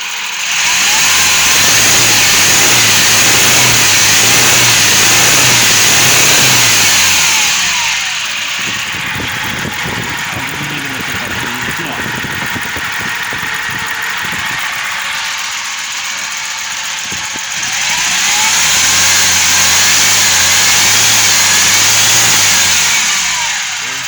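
A Hyundai HR engine with a fuel injector noise runs loud and close, rising into revs, settling to a rough ticking idle, then revving up again.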